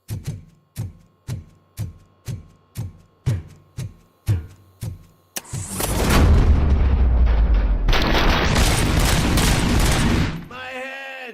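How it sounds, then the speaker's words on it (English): Gunfire in the game RoboCop: Rogue City: about a dozen sharp, evenly spaced shots, then a long, dense roar of loud sustained fire and blasts, ending with a brief electronic warble. "Hey, am I hearing gunshots?"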